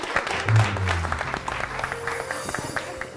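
Studio audience on a weekend television show breaking into applause, a busy patter of many hands clapping at moderate level, with a brief low thump near the start and faint voices mixed in.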